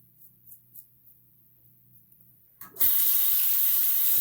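A bathroom tap turned on to rinse after a razor shave: quiet shuffling and light knocks, then water suddenly gushes into the sink and keeps running loud and close.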